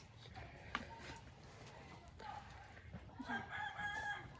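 A rooster crows faintly in the distance, sounding in a couple of short bursts over quiet ambient background.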